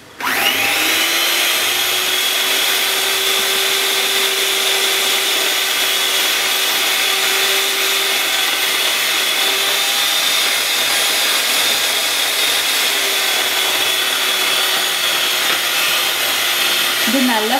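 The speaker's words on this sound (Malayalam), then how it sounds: "ഇത് നല്ല ഫ്ലഫി ആയിട്ട് വരുന്നത് വരെ ബീറ്റ് ചെയ്തെടുക്കണം" Electric hand beater whipping eggs for a vanilla cake batter, a loud steady high-pitched motor whine with a constant drone that runs unbroken and close for the whole stretch, no talk.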